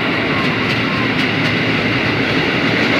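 A packed KRL commuter train pulls away from Manggarai station, a loud, steady rumble and rush of rolling carriages with faint periodic rail clicks throughout.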